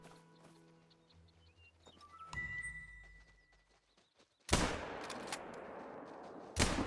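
Two loud rifle shots from a .243 in the hunting game theHunter: Call of the Wild crack out with a sharp burst and a rolling tail, the second shot about two seconds after the first, following quieter ambient game sounds.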